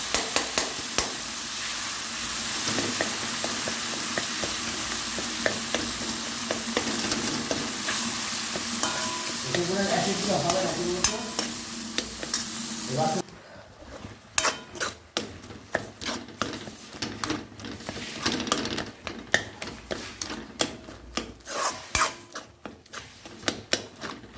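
Dal (about 200 grams of lentils) sizzles and fries in a pan while being stirred, with a steady crackling hiss and scraping strokes; the frying drops off partway and gives way to sparser, clattering stirring.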